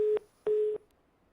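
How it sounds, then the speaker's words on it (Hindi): Telephone busy tone after a call is cut off during a phone-in on a Haryana news broadcast: two clear, steady beeps in a regular on-off rhythm, close and alone. "चलिए, सतपाल जी का फोन कट गया"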